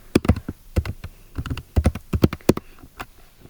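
Fingers type on a laptop keyboard in quick, uneven bursts of sharp close clicks, with brief pauses between runs of keystrokes and no voice.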